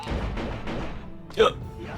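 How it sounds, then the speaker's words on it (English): A person's hiccup, a single short burst rising out of steady nearby talk. "Oops, sorry, my hiccups are happening."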